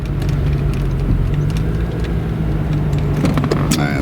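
A 1995 Chevrolet Corvette Indy pace car replica accelerating, its engine holding a loud, steady droning roar heard from inside the cabin, with a few brief clicks and rattles near the end.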